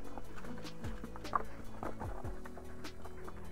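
A pony's hooves clip-clop at an unhurried pace, irregular knocks heard close over a continuous low background hum.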